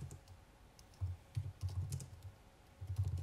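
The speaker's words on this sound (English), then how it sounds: "No typing, Karen." Rapid keyboard typing, a burst of clattering keystrokes with a short pause before another quick run, close by and fairly quiet.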